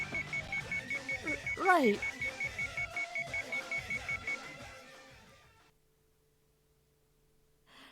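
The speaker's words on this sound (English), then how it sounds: "It's a little hard to hear with your wrist beeping." Wristwatch alarm beeping in a regular rapid pulse through the first half, in the Sweet Fuse video game, under a voice speaking, then fading out to near silence.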